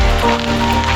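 Hail and rain pelt a surface in a dense, loud patter, with harder hail hits mixed in, filling the short moment without pause, in Colorado.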